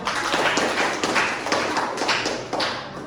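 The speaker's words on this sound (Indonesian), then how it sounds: "Oke, tepuk tangan dulu" A group of students claps hands together in a classroom, producing a dense, steady patter of close, sharp claps for a few seconds with little talking.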